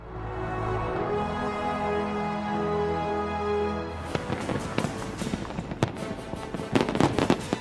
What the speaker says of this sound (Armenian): Սիդնեյում այս տարվա հրավառությունը եղել է ամենամեծը երկրի պատմության մեջ